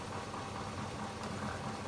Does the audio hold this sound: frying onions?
no